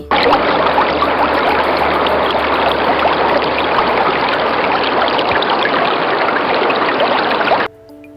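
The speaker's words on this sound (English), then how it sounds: "Could it possibly be running water?" Water rushes and babbles continuously in a steady, close stream, a full bright gurgling flow that cuts off abruptly near the end.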